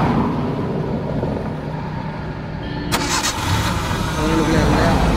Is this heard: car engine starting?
yes